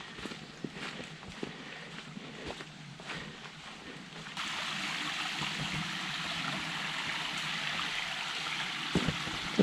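A creek flows beside a wooded hiking trail, its rushing water rising louder partway through as scattered footsteps crunch along the path nearby.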